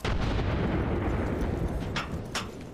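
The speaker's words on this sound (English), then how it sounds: "Grenade out!" A grenade explosion in the video game Apex Legends produces a loud, sustained booming rumble that slowly decays, with a couple of sharp crackling bursts near the end.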